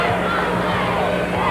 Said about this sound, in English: Crowd murmuring as Simmons goes all the way inside and is rejected by Burdett.